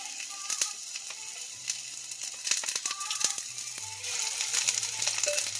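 Hot grease sizzling and popping in a smoking frying pan as a batch of food cooks, with sharp crackles and snaps over a steady sizzle and a few clinks, close up.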